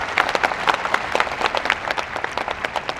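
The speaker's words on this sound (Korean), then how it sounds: "오늘 그 열심히 일한 그 공무원 분들에게도 여러분 박수 한번 부탁드리겠습니다" A crowd claps for hard-working public officials at a hearing, with distinct, crisp individual claps, some close by, forming a lively, uneven patter over about three seconds, with no speech.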